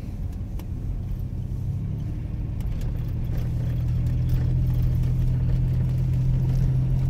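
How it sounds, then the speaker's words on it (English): A four-wheel-drive Chevrolet Blazer drives through snow with a steady, low engine rumble that swells slightly and holds as the vehicle pushes on. The sound is heard from inside, with no talk. "My way home, playing in the snow in my blazer."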